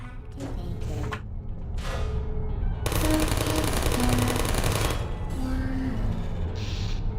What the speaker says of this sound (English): So for example, I could drop another turret on him.